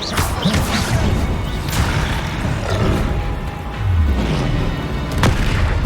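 Confringo, an explosive spell in Hogwarts Legacy, sets off heavy booming blasts and crashing impacts, loud and close amid the ongoing clamor of a fight.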